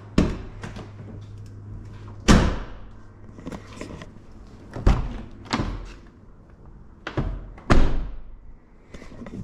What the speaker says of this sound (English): how does the doors sound when you shut them?